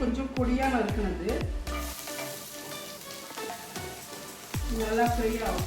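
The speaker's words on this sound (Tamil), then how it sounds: "நல்லா ஃப்ரை ஆகட்டும்." Finely chopped garlic and ginger sizzle in hot oil with cumin seeds in a pan, a steady, close crackling fry that runs throughout while a voice talks over it.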